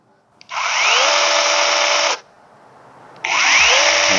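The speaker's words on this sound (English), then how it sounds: "let's go ahead and see how the PRORUN Mini Chainsaw does" A PRORUN PMCS120 cordless 20V mini chainsaw whines loudly at full speed in two bursts, the first about one and a half seconds long, a short pause, then a second run starting.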